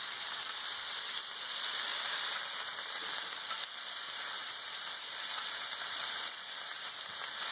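Smash burger patties sizzle on a Blackstone griddle, a loud, steady, dense hiss of frying that runs unbroken throughout with no talking.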